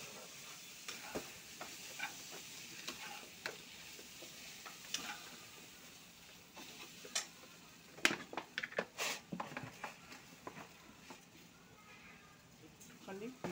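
Raw banana kofta mixture with ginger-garlic paste stirred in a pan, giving soft scraping strokes over a low sizzle with scattered clicks and taps that grow busier toward the end, while a voice talks intermittently.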